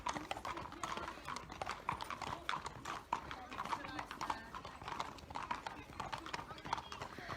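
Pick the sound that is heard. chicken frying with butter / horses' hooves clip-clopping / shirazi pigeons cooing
horses' hooves clip-clopping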